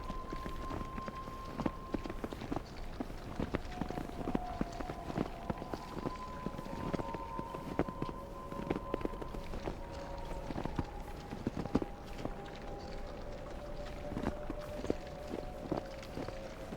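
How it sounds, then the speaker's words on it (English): Homemade Foley footsteps recorded clumping around a garden, a steady run of soft, close thuds and scuffs, quiet and alone over faint background tones. "Just spent longer than I should have, like clumping around the garden, getting these footsteps."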